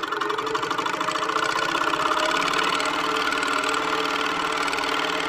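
A longarm quilting machine stitches in manual mode, giving a steady, rapid mechanical chatter that holds an even rhythm throughout, close by and fairly loud with no talking over it.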